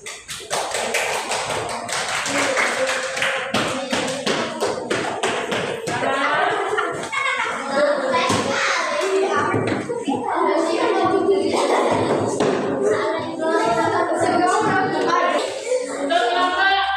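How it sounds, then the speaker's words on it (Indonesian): A class of primary school children claps their hands together in a long, dense burst of rapid, uneven claps close by, with some voices mixed in. "Silakan untuk kembali kita beri tepuk tangan"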